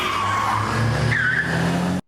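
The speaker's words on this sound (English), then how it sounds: "was that the car that was supposed to kill him in the first place?" A car skids in a Doctor Who episode, a loud, close tire squeal over a rumbling engine lasting about two seconds before cutting off abruptly.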